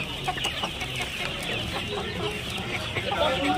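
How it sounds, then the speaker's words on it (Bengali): Young chicks and hens at a poultry market in Nepalgunj cluck and peep in a dense, continuous chorus up close, with a faint voice in the background. "দেখুন এখানে কত মুরগির বাচ্চা আছে"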